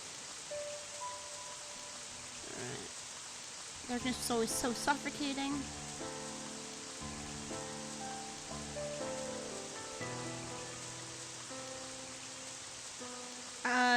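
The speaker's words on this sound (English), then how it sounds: "the sound of rain bouncing off the walls began to echo through the halls" Rain echoing through stone halls in the video game Pandora: a steady, hissing wash of rainfall that runs the whole way through, layered under a music score and a voice narrating.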